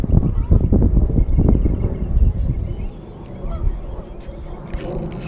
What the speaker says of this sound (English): Damn geese came back, huh? Now they're just all over.